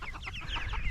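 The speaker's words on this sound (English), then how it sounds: "I love these chickens." Chickens in a large flock waiting for food cluck in rapid, overlapping bursts, close and fairly loud, for a brief moment with no talking.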